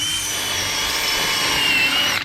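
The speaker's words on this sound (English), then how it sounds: "and then you can start drilling it out." Power drill boring steadily into a seized brake rotor retaining screw, a continuous loud whining grind held for about two seconds before cutting off abruptly at the end.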